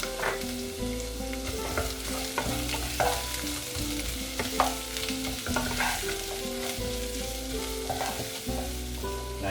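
Onions fry in hot sesame oil in a pan, a steady low sizzle with occasional stirring scrapes and clinks, heard close and alone against faint background music.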